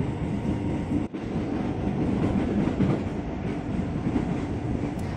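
A KRL Commuter Line electric train bound for Bogor runs late at night with a continuous low rumble and faint rhythmic wheel clatter, heard from inside the carriage with a brief dip near the start.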